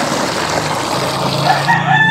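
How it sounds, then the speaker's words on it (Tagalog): A rooster crows near and loud in a backyard where chickens are kept, with clucking and general outdoor farm noise around it. "Dami rin manok dito sa amin."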